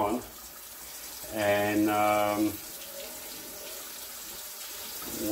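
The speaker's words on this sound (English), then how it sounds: "I will put the hot water on" Hot water runs from a tap in a steady, soft hiss that carries on throughout, with someone speaking briefly over it.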